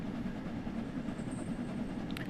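A steam train runs in the video game Train Simulator on a Christmas journey, a continuous low rumble and rolling rail noise with a faint hiss, steady throughout and free of talk.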